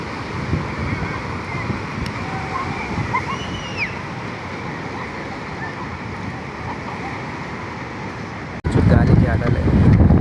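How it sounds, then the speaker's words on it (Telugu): Wind-driven sea waves surge and wash continuously at Rushikonda Beach in Visakhapatnam, with steady roaring surf and wind buffeting the microphone, growing louder and rougher in the final seconds. "గాలికి అలలే ఇలా ఎగిసిపడుతున్నాయి."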